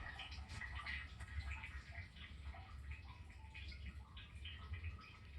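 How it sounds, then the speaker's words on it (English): Water trickles and splashes continuously into a RODI water tank fitted with a dome float sensor and valve, a faint steady running wash with small gurgles, close by and alone. "You can hear the water."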